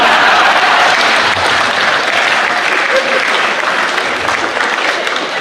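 Audience applause at a Hindi comedy poetry stage show, a dense, loud wash of clapping from a crowd that holds steady throughout with no talk over it.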